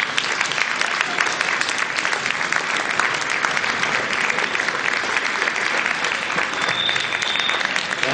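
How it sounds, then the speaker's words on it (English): Steady, dense applause from a town meeting audience in Putney, many hands clapping together at close range, holding an even loudness throughout with no voices over it. "we could have a round of applause for all the work that he's done this year."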